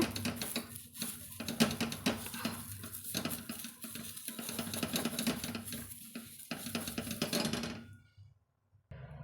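A new appam pan being scrubbed with an onion, a steady rubbing and scraping with faint clinks, continuous and close, then stopping abruptly near the end.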